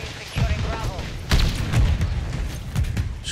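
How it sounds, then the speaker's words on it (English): Rapid bursts of gunfire from the Stormender JAK Voltstorm in a video game, several loud shots and booms over about three seconds, mixed with a low game soundtrack and some voice in the background. "Just keep pulling that trigger."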